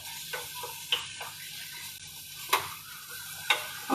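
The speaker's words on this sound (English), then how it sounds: "now while that is just about coming to a sizzle" Onion, garlic and thyme starting to sizzle in a pot, a soft steady frying hiss broken by a few sharp clicks of a utensil against the pot, quiet and close.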